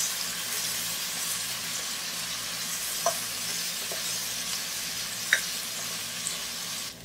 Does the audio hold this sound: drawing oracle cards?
no